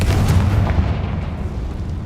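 A Confringo fire spell exploding in Hogwarts Legacy, a loud, deep booming blast that rolls into a sustained rumble, close and filling the whole moment with no voices.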